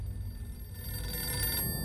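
A telephone rings inside the horror game The Outlast Trials, a steady electronic ring held over a low background rumble that fades near the end.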